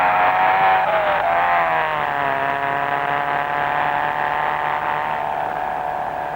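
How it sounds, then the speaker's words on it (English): A 1960s racing car at full throttle up through third, fourth and fifth gear along Tannery Straight at Longford, Tasmania: a loud, close, steady engine howl whose pitch climbs and shifts, running alone without speech. "It's full acceleration as we take 3rd, 4th and 5th gear down Tannery Straight at about 160 miles per hour."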